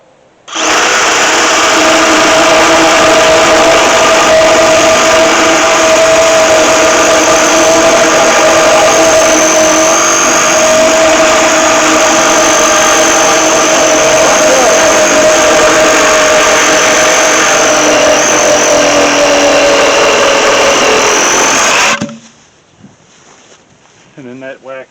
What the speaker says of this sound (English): You can just take your Sawzall now and line up on your mark.